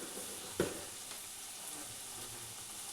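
Prawn curry sizzles gently in a pan after salt and turmeric go in, a quiet steady frying hiss with one brief stir or clink near the start.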